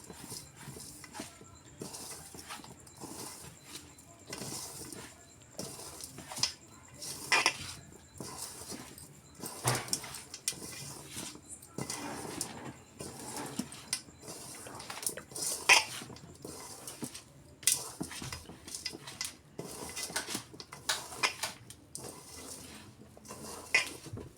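Hand mixing sesame rice on a plate: soft, irregular squelching and pressing with occasional clinks against the plate, close and fairly quiet, repeated in uneven bursts throughout.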